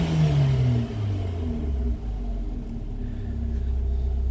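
A 2015 Abarth 595 Turismo with a 1.4 T engine in sport mode, idling with a deep steady rumble after a falling rev, fairly close and with no talking.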